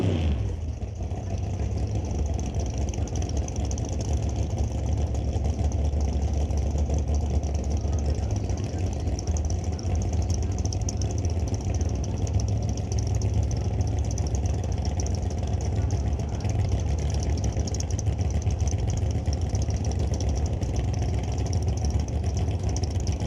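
Drag racing cars sit idling at the starting line of an outlaw shootout at Mission Raceway Park, giving a continuous deep engine rumble that holds steady and fairly loud with no clear revving and no talk.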